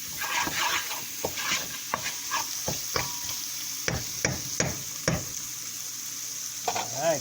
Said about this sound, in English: we're gonna go ahead and add our chana